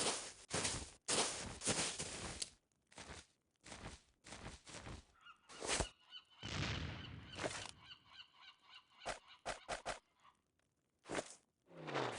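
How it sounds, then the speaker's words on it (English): Parrot squawks from the video game Escape from Monkey Island, a series of loud, harsh bursts in an irregular rhythm with short pauses between calls, heard up close with nobody talking. "Kinda sounds like a parrot."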